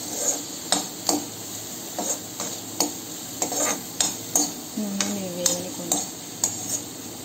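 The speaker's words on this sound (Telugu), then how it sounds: "ఆనియన్స్ వేగించిన తర్వాత క్యాప్సికమ్, క్యారెట్ వేసుకుంటున్నాము." Capsicum and carrot frying with browned onions in a pan, a soft steady sizzle broken by regular sharp scrapes and knocks of a spoon stirring against the metal, close and without talk.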